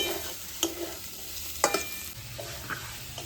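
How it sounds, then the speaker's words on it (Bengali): Eggs stirred into hot spiced oil for egg korma, a continuous close sizzle with a few sharp spatula scrapes and taps against the pan, no one speaking. "ডিমটাকে দিয়ে আমি একটু নেড়েচেড়ে কষিয়ে নেব, যাতে মশলাটা ডিমের ভিতরে ঢোকে।"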